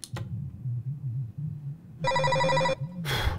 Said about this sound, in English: Okay, there's the phone call.